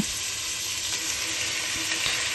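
Chicken pieces coated with turmeric fry in hot oil in a pan, giving a steady, loud, close sizzle with fine crackling that stays even throughout, with no voices.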